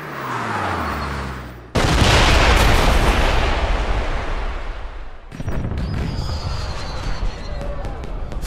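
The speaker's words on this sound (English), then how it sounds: "Did you know there were going to be fireworks?" Fireworks bursting in a James Bond 007 Blood Stone video game scene: a loud broadband blast, then a sustained crackling roar with another sharp burst and fizzing crackles, under game score and effects.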